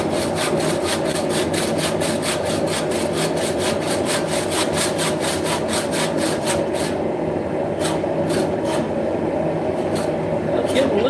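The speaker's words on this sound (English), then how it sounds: "Grab your handy dandy handsaw." A handsaw cuts through metal at a forge workshop while a hammer head is being made into a tomahawk. Steady, fast, loud back-and-forth strokes run close and continuous, then slow and become more widely spaced toward the end.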